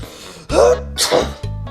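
A single sharp, close sneeze bursts out in the middle, with a voice heard around it.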